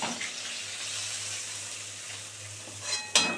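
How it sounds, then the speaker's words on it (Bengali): Desi bele fish fry in hot oil in a pan, giving a soft, continuous sizzling hiss, with a brief utensil clink near the end and no talking. "এই জন্য একটু ভালো করে সাবধানে ধরে ধরে ভাজতে হয়"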